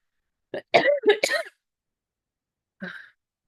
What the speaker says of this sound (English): I have a cough and it's annoying.